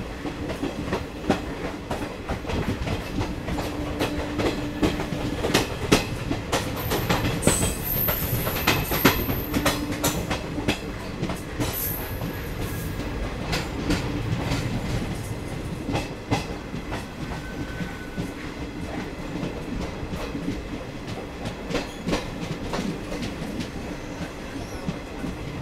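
A passenger train with rake sharing rolls along the rails, its steady clickety-clack rumble continuous and close for the full length, with occasional higher wheel squeals and no voices.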